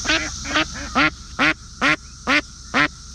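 Loud, close duck quacks repeat in a steady series of about eight calls, evenly spaced with short quiet gaps between them.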